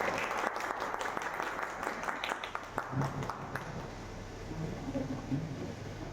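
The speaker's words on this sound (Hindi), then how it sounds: "तालियों से स्वागत करें।" Audience applause welcoming guests at a public programme in Uttar Pradesh: dense, steady clapping from a crowd, strongest with sharp claps in the first few seconds, then thinning into a softer, scattered patter with murmuring underneath.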